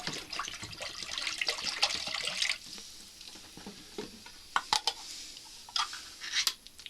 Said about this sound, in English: next comes 2 cups of water